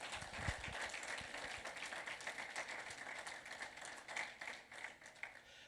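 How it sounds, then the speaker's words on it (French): A church congregation applauds its Sunday school teachers with continuous crowded clapping that stays fairly even and moderately loud from start to finish. "Est-ce qu'on peut les applaudir?"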